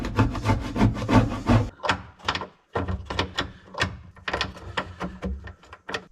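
A door's locking mechanism is jiggled and worked back and forth at close range, giving a run of woody rattles, rubbing scrapes and knocks in irregular bursts with brief pauses between them.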